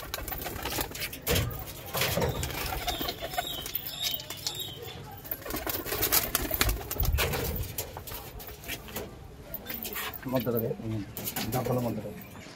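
Pakistani pigeons of a double line coo softly among loft noise, with occasional wing flaps and a person talking nearby.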